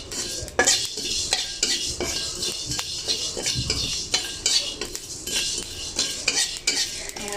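Panch phoron spices frying in a pan for cabbage patties, heard as a steady run of metal-on-metal spoon scrapes and clinks with a faint sizzle underneath, close and fairly loud throughout.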